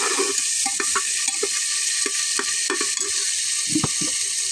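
Spice masala frying in a pan is stirred briskly, with a steady sizzle under repeated scraping and clinking strokes of the spoon, close and fairly loud.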